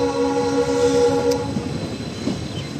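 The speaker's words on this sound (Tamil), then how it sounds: "காரைக்குடி ஜங்ஷன் பிளாட்ஃபார்ம் நம்பர் 2ல இருந்து நம்ம ட்ரெயின் கிளம்பியாச்சு" A diesel train horn sounds a steady sustained blast as the train pulls out of Karaikudi Junction platform 2, then fades into rumbling wheels and rail noise.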